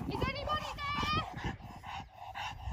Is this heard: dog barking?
yes